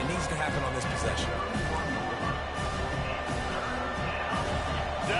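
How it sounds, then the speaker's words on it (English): A stadium crowd roars in the College Football 25 video game as the defense lines up on third down, a dense, sustained wall of cheering with commentary talking over it throughout. "Decibels rising as the crowd gets behind this defense on 3rd down"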